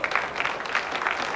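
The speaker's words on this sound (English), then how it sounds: "That hand from an appreciative crowd for Johnny Archer's just perpetrated jump shot" Crowd applauding a jump shot at a 1991 professional nine-ball pool tournament, a short burst of steady clapping from a modest audience, fairly close and even, with no voices over it.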